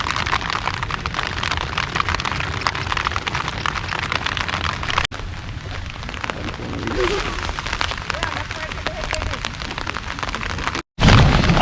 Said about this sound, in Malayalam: പുറത്ത് നല്ല മഴ പെയ്യുന്നുണ്ട്.